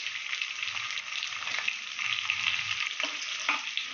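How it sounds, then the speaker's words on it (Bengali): Onion and chopped capsicum frying in oil for chilli chicken, a dense continuous sizzle with faint stirring scrapes and soft low thumps, close and alone. "এরপর আমি হালকা করে ফ্রাই করে নেবো,"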